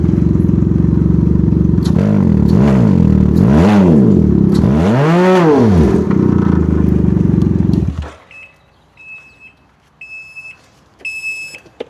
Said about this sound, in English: when I give it a rev, we're gonna see what it maxes out at